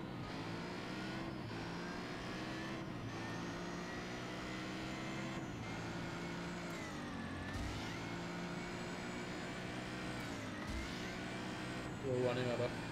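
Car in Just Cause 3 accelerating hard with nitrous on a runway: a steady, loud engine drone that climbs in pitch across the clip, continuous and close, with a brief extra burst near the end.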